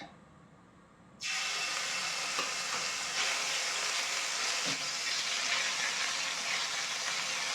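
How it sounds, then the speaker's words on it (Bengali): Ginger garlic paste frying in hot oil for a mustard-sauce rohu fish curry, a steady loud sizzle that bursts in after a quiet second and holds, with faint stirring scrapes. "তেলের সাথে মশলাটা একটু ভেজে নিচ্ছি।"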